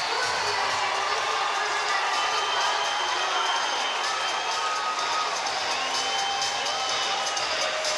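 Roaring crowd at a women's volleyball semifinal between the USA and Turkey, cheering and whooping loudly and steadily at close range after Turkey wins the first set, with no clear voices above it.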